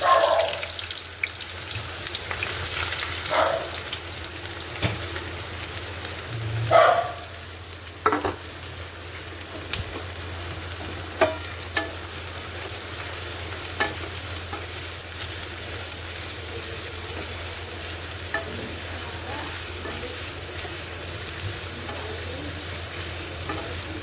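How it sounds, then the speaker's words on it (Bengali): Thinly sliced onions frying in hot oil over a high flame for beresta, a continuous bubbling sizzle with occasional spatters and a few clinks of stirring, close and steady throughout. "এবারে তোমার পেঁয়াজগুলো দিয়ে দেবো এটা পেঁয়াজগুলো দেখো বেরেস্তা ভাজবো"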